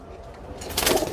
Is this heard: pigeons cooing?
yes